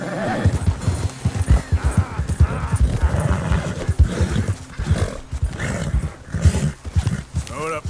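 A horse in Red Dead Redemption 2 neighs and whinnies close by while its hooves clip-clop in a quick uneven rhythm, loud and busy throughout.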